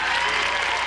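A studio audience at a Brazilian Sunday variety show applauds, a dense, loud, continuous roar of many hands clapping with no pause.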